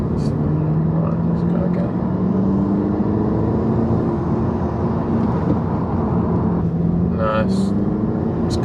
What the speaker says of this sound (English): I'm just going to do that same little third gear pull now